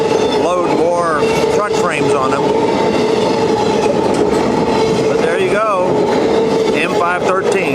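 A freight train of empty flatcars rolls southbound past Hopkinsville, Kentucky, on the Henderson subdivision, with a loud continuous rumble, clattering joints and repeated rising wheel squeals.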